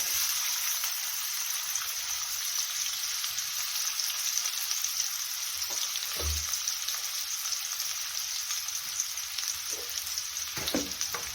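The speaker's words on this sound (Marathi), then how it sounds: "तेलामध्ये कांदा फ्राय करून घेऊ" Chopped onion with a pinch of salt frying in hot oil for a chickpea-greens bhaji, giving a steady, close, continuous sizzle with a few soft stirring knocks near the end.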